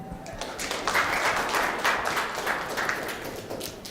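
A conference audience at a crypto games event in Minsk claps for an incoming speaker, a moderate, even patter of many hands that carries steadily for about four seconds.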